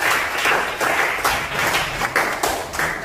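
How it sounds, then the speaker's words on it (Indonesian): Classmates in a school social studies lesson clap for a discussion group, a few seconds of fairly close applause with audible individual claps and slight rhythmic swells. "Silakan tepuk tangan dulu untuk kelompok 1"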